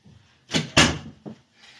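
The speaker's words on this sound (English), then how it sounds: "I'm going to close my door here." A door is pushed shut indoors: a short scrape, then a solid thud, followed by a quieter click of the latch.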